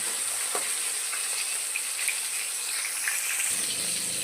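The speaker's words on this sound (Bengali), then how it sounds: "এবার এর ভেতরে একে একে মাছগুলোকে দিয়ে ভাজা করে নেব" Rohu fish pieces fry in hot oil with a loud, continuous sizzle close up, broken by a few soft clicks of a spatula turning them, and no talking.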